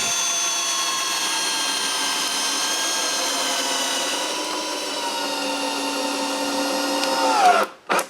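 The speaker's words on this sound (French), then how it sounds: "Il me reste juste à visser les 4 premières vis." Power drill driving screws into wood for a woodshed, whirring steadily and loudly for about seven seconds, then rising briefly and cutting off with a short clatter; no voices.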